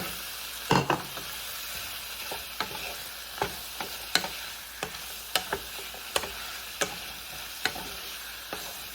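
Chicken going into a pan of ginataang munggo, Filipino-style mung beans in coconut milk: a constant frying sizzle punctuated by a dozen or so sharp clicks and scrapes of a utensil against the pan, spaced irregularly.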